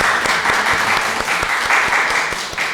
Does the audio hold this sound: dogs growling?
no